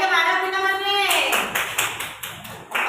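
Children in a classroom clap together in a quick, even run of about seven claps, after a voice speaks briefly.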